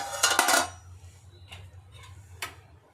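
A metal lid comes off a pot of gongura pulao with a brief clattering clank, followed by a few faint taps and clicks in a quiet kitchen.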